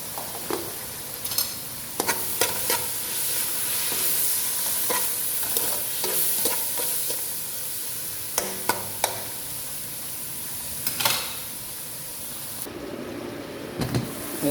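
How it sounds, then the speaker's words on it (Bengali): Ginger garlic paste frying in a pot of oil for biryani, a steady close sizzle and hiss with repeated scraping stirs and clinks throughout, no talk. "এখন আমি একটু আদা রসুন বাটা দেবো এখানে অল্প পরিমাণে।"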